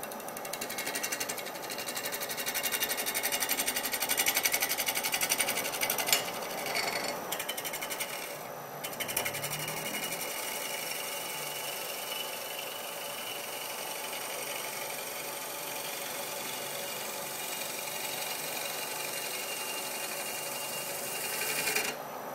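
A gouge cuts along a spinning bowl blank on a wood lathe, truing the cylinder with a steady buzzing whir and grinding texture as it makes passes across the wood.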